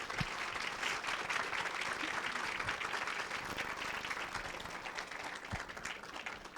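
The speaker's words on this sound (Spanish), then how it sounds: "démosle un aplauso" Sustained applause from an audience, a dense, even patter of many hands clapping that continues steadily throughout.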